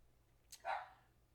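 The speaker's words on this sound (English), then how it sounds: "Excuse my dog in the background." A dog barks once in the background indoors, a short faint yap standing alone against a quiet room.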